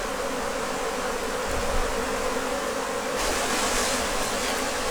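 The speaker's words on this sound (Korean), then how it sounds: "3일 전에 받은 벌이 집을 나갔다." A swarm of honeybees leaving the hive in hot weather fills the air with a dense, steady buzzing drone that stays loud and continuous throughout, with no talk.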